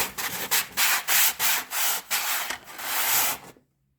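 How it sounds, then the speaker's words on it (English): Sandpaper rasps back and forth over a surface in quick rhythmic strokes, close and steady, then stops. "Just a little bit of sanding."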